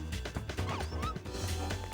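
A dog in the video game Persona 3 FES barks and yips several times in quick bursts over busy game music and effects.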